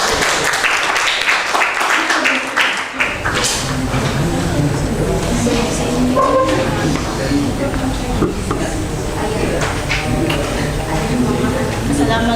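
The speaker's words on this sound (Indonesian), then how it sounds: "Sampai aplaus untuk kelompok." A classroom of students applauding a student group, clapping starting abruptly after a quieter moment and continuing steadily with mixed chatter and voices underneath.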